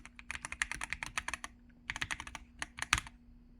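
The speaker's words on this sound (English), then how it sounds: "And now you have a wireless gaming keyboard with no lag." Typing on a Razer BlackWidow V4 Pro wireless gaming keyboard: quick bursts of crisp, close keystroke clicks with short pauses between runs, heard alone and moderately quiet.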